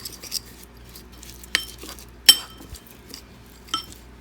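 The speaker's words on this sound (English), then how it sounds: "So I'm just going to mix this all together." Natural skin care ingredients, including egg yolk, being mixed in a bowl: scattered clinks and scraping taps of a utensil against the dish, a few sharper knocks standing out over quiet background.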